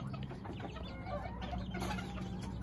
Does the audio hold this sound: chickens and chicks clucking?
yes